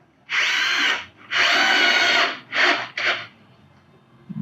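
Power drill drives the last screw into a melamine cabinet in four bursts: two longer whirring runs, then two short final pulses, close and loud against a quiet room.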